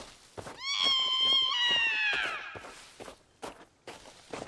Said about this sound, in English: That blood-curdling scream in the ears.